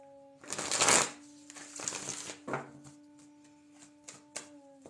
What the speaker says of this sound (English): And while I'm shuffling